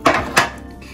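Two quick clinks of a utensil knocking against a bowl while tomato and onion are mixed, close and fairly loud, then quiet.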